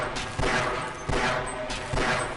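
Gunfire in Half-Life aimed at a bull squid creature: three separate loud bursts of shots spaced about half a second apart, each with a brief rumbling tail and no talk.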